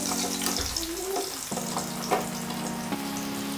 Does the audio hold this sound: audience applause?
no